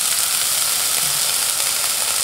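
Onion dropped into a hot pan for hotel-style tomato soup gives a loud, steady hiss of frying that fills the whole moment without pause, close up and with no voices.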